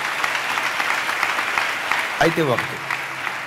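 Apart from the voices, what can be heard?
congregation applauding in church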